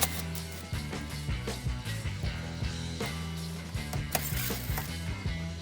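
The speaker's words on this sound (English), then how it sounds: "use a straightforward screwdriver, which is Torx 15 screwdriver in normal cases" A Torx 15 screwdriver turns out front bumper screws on a 2019-2024 Chevy Malibu, giving a steady run of close, rapid ratcheting clicks and small plastic-and-metal creaks with no talking.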